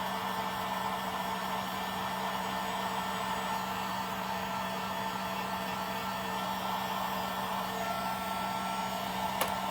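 A hair dryer blows a steady, even whir throughout while drying a painted spring craft duck, constant and fairly close with no talking over it.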